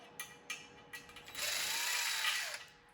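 Screws are removed one after another from the panel of a 12U AxcessAbles equipment rack, with a few sharp ratcheting clicks followed by a sustained mechanical whir from the driver, all close up with no talking.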